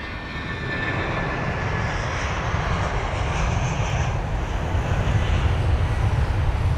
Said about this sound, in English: Don't want to talk over this engine sound.